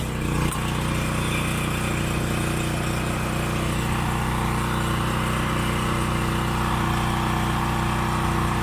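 A small gasoline engine runs steadily after a brief start-up knock, a continuous buzzing drone close by with no talking.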